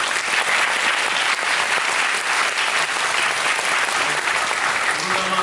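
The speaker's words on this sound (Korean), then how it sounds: "장유정 연출님께 박수" A theatre audience applauds the director of the Korean musical at a final-performance curtain call, a dense, loud, even roar of clapping sustained throughout, with faint voices near the end.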